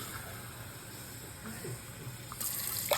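Tap water runs steadily into a pot being filled for cooking rice, a low continuous rush with a brief brighter splash near the end.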